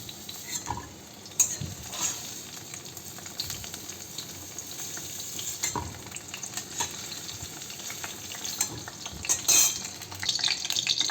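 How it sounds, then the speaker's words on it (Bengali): Whole garam masala, cumin seeds, dried red chillies and bay leaves crackle and sizzle in hot oil while a spoon stirs and scrapes the pan, with occasional sharper pops. "গরম তেলে যে গোটা গরম মশলা জিরে শুকনো লঙ্কা তেজপাতা দিয়ে দিলাম"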